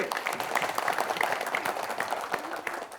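Studio audience applauding a quiz team on the TVRI Sumsel broadcast of Cepat Tepat, a steady mass of claps with a faint murmur of crowd beneath.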